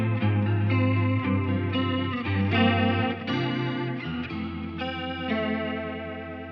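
Electric guitar played through a Boss CE-2W chorus pedal set to vibrato mode, sustained chords and notes with a wavering pitch modulation, close and alone.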